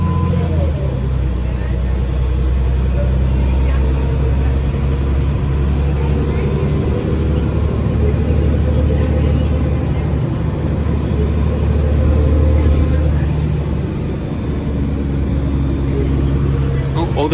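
A Montreal Nova Bus LFS city bus, number 22-215, rumbles steadily throughout the ride with a loud, constant low engine and road drone, while people talk over it.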